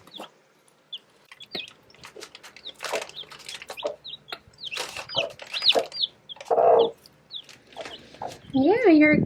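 A broody mother hen clucks softly among her chicks, with short, scattered clucks and high peeps that come and go, growing busier and louder in the final seconds.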